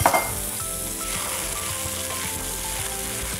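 Shallot sizzling in hot oil for a Thai pad thai, a loud steady frying hiss that starts with a sharp burst as it hits the pan and continues close and unbroken with faint utensil clinks.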